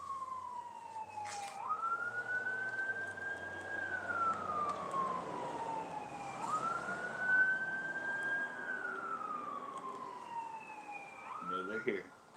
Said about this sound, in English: There is sirens going on.